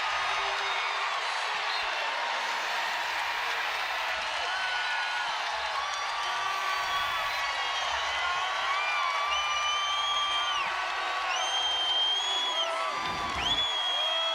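Basketball arena crowd at an NCAA women's Elite Eight tournament game, Louisville versus Iowa, cheering and whooping in a loud, sustained roar with rising shouts and whistles throughout.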